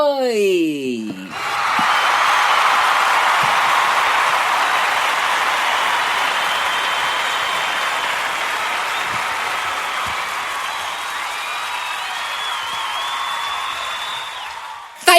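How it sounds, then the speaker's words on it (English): Sustained applause from a live studio audience at the start of the Luke Howard Show, loud and steady for about fourteen seconds after a brief opening sound, then cutting off abruptly. "Thank you very much for that wonderful applause"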